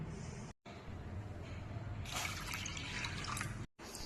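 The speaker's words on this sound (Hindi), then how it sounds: "अब हम इसी कटोरी से नाप कर 2 कटोरी पानी गरम कढ़ाई में डाल देंगे।" Two bowls of water poured into a hot kadhai while cooking vrat chaulai barfi, a steady close liquid rush that swells into a brighter hissing splash halfway through, with two brief cuts of silence.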